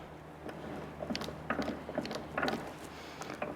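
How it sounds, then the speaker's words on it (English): T56 transmission gears meshing and clicking into place as the main shaft is lowered, a close series of irregular metallic clinks and ratcheting taps over a quiet workshop hum. "lift the main shaft up and kind of let the gears thread together."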